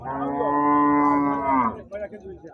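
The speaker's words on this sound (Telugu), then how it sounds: "రెండు జెర్సీ ఆవులు అండి పెద్ద ఆవులే" Two large Jersey cows at a busy weekly livestock market: one long, loud, close moo rises and falls for nearly two seconds, then trails into softer grunting sounds.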